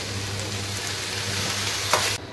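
Chopped khero (ash gourd) sizzling steadily as it fries in a pan after dal, a continuous dense crackle at close range that cuts off abruptly near the end.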